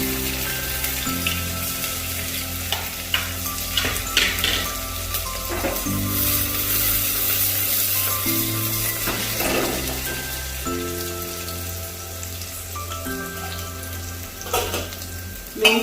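Sliced onions fry and hiss in a pan for chickpea gravy, a steady close sizzle like light rain broken by occasional scrapes of stirring, heard over soft background music without speech.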